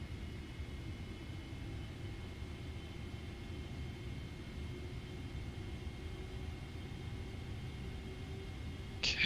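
Boeing 777-300ER jet engines in a flight simulator spool up to 40% thrust, a steady loud broadband roar and hum holding level throughout, with a brief sharper sound right at the end.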